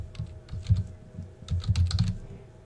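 Close-miked computer keyboard typing comes in irregular bursts of clicky keystrokes, with short pauses between runs and faint background hum.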